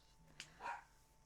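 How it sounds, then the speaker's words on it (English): A pet dog named Princess gives a single faint, distant bark indoors, a short muffled yip in an otherwise quiet room. "if you guys hear my dog Princess barking, she's barking"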